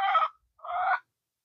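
Chickens in a backyard garden give two short, close clucking calls separated by a brief pause, with nothing else around them.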